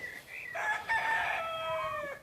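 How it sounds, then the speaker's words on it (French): A rooster crows once nearby, a clear drawn-out cock-a-doodle-doo with a rising start and a long falling tail, heard alone. "on a un magnifique coq ici"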